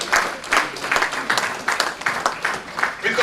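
An aviation careers conference audience claps in a steady patter of hands with rhythmic peaks, fairly close and sustained, with some voices mixed in under the applause.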